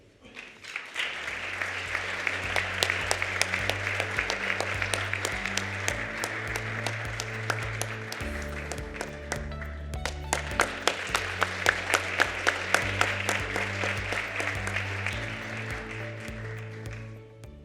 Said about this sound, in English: one more round of applause for that category.